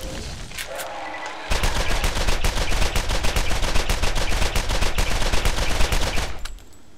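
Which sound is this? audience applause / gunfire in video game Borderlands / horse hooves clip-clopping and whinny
gunfire in video game Borderlands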